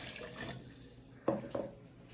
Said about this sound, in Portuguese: você vai colocar no liquidificador a água